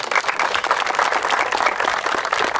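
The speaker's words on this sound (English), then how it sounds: "Give him a big round of applause." An audience gives a short, steady round of applause for a construction superintendent, dense clapping at moderate level with no talking.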